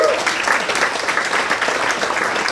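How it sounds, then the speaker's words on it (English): A gathering of about 300 people at a program celebrating the life of Dr Faroque Khan applauds, a full, dense, steady roll of clapping that holds loud and even throughout. "Can we please have an applause for all of you?"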